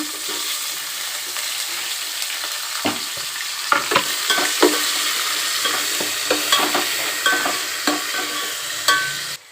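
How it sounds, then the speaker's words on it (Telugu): Onions go into hot oil after cashews have fried, in a pan for hotel-style biryani, crackling in a continuous loud sizzle with repeated sharp spatula scrapes and knocks against the pan. "ఫ్రై అయిన తర్వాత ఆనియన్స్ వేసేస్తున్నాను"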